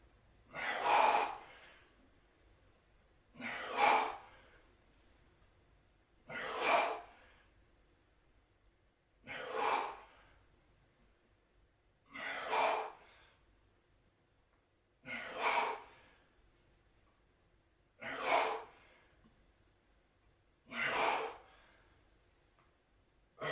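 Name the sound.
exhaling hard during exercise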